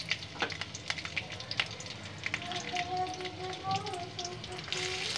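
Chopped garlic hits hot oil in a pan and sizzles with a steady, dense crackle close by, while a faint voice murmurs underneath.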